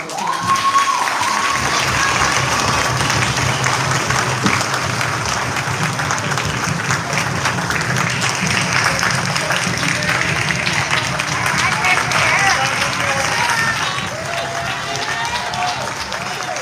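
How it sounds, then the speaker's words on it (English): A church congregation at a Garifuna Settlement Day Mass in Los Angeles breaks into sustained applause, a dense, even wash of clapping that holds steady for the whole stretch before easing slightly near the end. "could you please stand so we can give you a round of applause"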